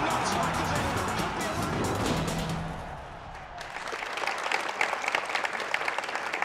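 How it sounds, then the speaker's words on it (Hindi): Studio audience applause on a television game show, loud and thick at first, then thinning into scattered claps after a brief dip, with talk and other noise mixed in. "तालियां"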